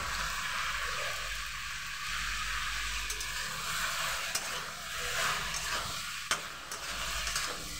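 Masala frying and being stirred in a pan with cumin powder and chili powder, for a ridge gourd, potato and fish curry; a steady close sizzle with scraping stir strokes and a few sharper clinks, no talk.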